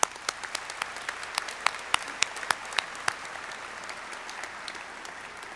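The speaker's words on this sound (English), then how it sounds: "How about another round of applause?" Audience applause fills a hall at a spring undergraduate commencement ceremony: a dense wash of clapping with distinct nearby claps standing out early, gradually thinning and fading toward the end, with no talk over it.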